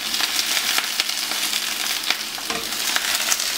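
Chicory halves sizzle and crackle steadily in a hot pan as they are flipped to caramelise, a close, dense frying hiss with scattered pops and a few sharper clatters.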